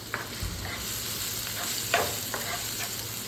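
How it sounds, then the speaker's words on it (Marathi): Onion and carrot sautéed in oil in a pan, giving a continuous close sizzle with occasional soft stirring knocks from a spoon. "त्यामध्ये 1 पळी तेल टाकून घेतलेलं आहे आणि यामध्ये आपल्याला आता भाज्या परतून घ्यायच्या आहे."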